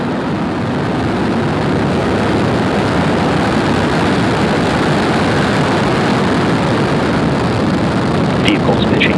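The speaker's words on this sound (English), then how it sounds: "Ignition and liftoff." SpaceX Falcon rocket engines roar at ignition and liftoff during the Sirius SXM-10 launch, a loud, continuous broadband rumble heard throughout.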